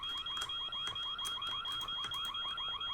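Electronic alarm blaring in the horror game White Day, a rapidly repeating warbling siren pulse over a steady high whine, continuous and loud with no voices.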